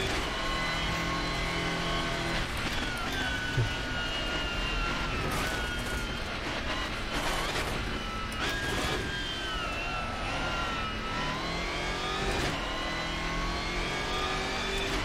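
Race car engines in the rFactor 2 racing sim, on a circuit raced against AI opponents: a continuous loud high-pitched engine whine with gliding pitch shifts as cars accelerate and shift, several cars layered throughout.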